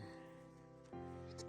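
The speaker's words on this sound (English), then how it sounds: "Hey, you. Silly goat." A goat bleats close by on a farm during spring haymaking: a short, wavering bleat that jumps abruptly in pitch partway through, heard alone.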